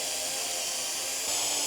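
A power drill bores pilot holes, a steady high-pitched whir that runs continuously and steps up slightly near the end, close and moderately loud with no voices.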